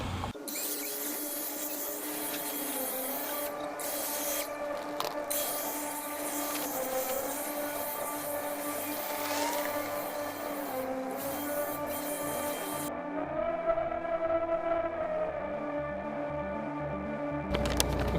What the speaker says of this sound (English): I think I need to blow these leaves off.